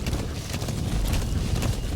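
A horse gallops in Metal Gear Solid V: The Phantom Pain, with steady rapid hoofbeats pounding close and loud over a low rumbling bed, continuous for the whole stretch.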